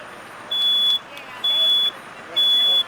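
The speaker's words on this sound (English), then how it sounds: "That is the smoke detector." A smoke detector sounds during a live burn fire sprinkler demonstration, giving three loud, piercing beeps at an even rhythm over a steady background roar.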